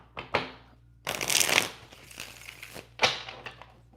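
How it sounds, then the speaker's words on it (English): Tarot cards being shuffled by hand, several quick riffling bursts close to the microphone, separated by short pauses, with no talking. "Let's shuffle them cards."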